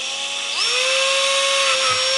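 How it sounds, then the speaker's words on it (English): A power drill whines as it bores a hole through a PVC pipe flute, a steady high-pitched motor tone that rises in pitch as the drill spins up and then holds steady. "and drill one hole"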